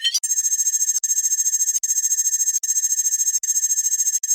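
An audio track pitched up 48 semitones into a thin, high, buzzing layer for a sustain bass, with a chirping, insect-like texture that stutters in short regular repeats, steady and moderately loud.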